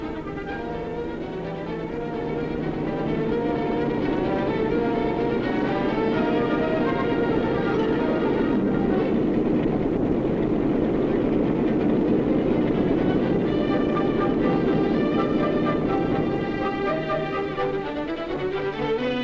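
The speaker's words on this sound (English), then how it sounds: "the train's coming and it can't stop" A train rumbles closer over about nineteen seconds, its rolling clatter and wheel noise building steadily louder and staying heavy to the end.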